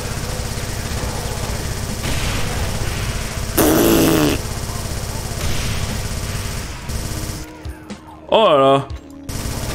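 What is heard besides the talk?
Gatling gun spinning up and firing in Doom video game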